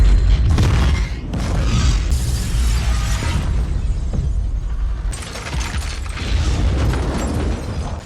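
In a horror film, a bomb blows up a helicopter: loud, repeated booms and crashing bursts with shattering debris roll through the scene, rising and falling over several seconds.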